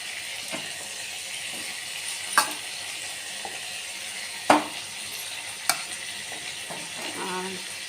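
Ginger paste fries and is stirred in a pan for a mutton curry, a continuous close sizzle broken by three sharp spatula scrapes and knocks.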